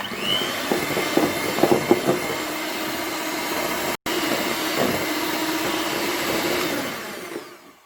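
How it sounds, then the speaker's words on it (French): An electric mixer whisks an egg mixture into a thick mousse for a coffee-chocolate yule log, giving a steady close motor whir with faint rattling beaters that runs almost continuously and briefly cuts out once before it fades. "Continuez de fouetter jusqu'à obtenir une mousse qui va tripler de volume."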